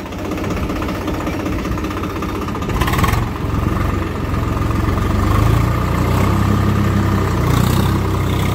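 Swaraj 742XT tractor idling with the clutch pressed and a rotavator fitted behind, a loud steady knocking diesel rumble close by, swelling slightly partway through, with no talk.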